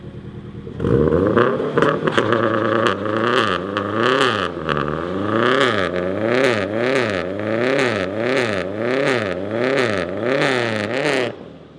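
A boosted Subaru BRZ holds a burnout, its engine revving hard in rising and falling waves with tire whir and clatter, loud and close throughout with no talking.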